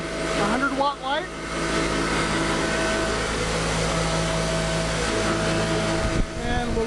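Modified DC motor spinning the crankshaft of a 10 kW generator at about 3,300 RPM, giving a steady whining hum with constant tones throughout, a voice speaking briefly near the start and a clunk near the end.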